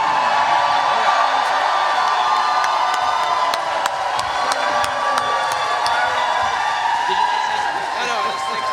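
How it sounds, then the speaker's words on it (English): An audience at a livestreamed Halifax concert cheers for two boys, a continuous wash of crowd noise and shouts with scattered claps and whoops, and a voice speaking over it throughout. "So now can we give a cheer for Max, who's the cousin, and Miles, who's my son, who showed up in Ottawa."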